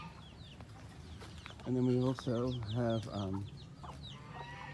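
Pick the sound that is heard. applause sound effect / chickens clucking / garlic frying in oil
chickens clucking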